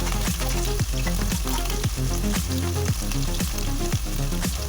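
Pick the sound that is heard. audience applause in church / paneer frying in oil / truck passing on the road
paneer frying in oil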